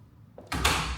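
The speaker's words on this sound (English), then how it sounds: "So if you open it and you leave it, it'll close by itself." A spring-loaded hinged bathroom door swings shut on its own, with a faint click followed by a loud, close, sustained rush of noise as it closes.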